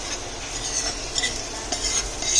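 A spoon works through stuffed kantola curry with onion-tomato paste in a pan, giving a steady soft scraping and stirring under a faint sizzle, with occasional light clinks and no voices.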